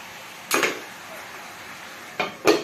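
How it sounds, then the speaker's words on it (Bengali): A spoon stirring dried churi fish and vegetable curry in a cooking pot: two or three short metallic clinks and scrapes against the pot, separated by a quiet gap. "এখন শুটকি মাছ এবং তরকারিকে ভালোভাবে আপনারা নাড়া দিয়ে নেবেন"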